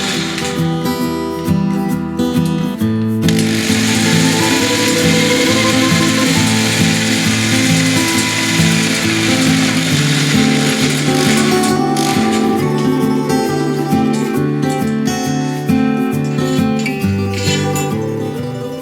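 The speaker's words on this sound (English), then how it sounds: "Then I use a wood drill to widen the hole to 6mm." A loud power drill whirs steadily and close for the whole stretch, its motor pitch shifting slightly as a wood bit widens a hole to 6mm in catamaran wood, with no talking.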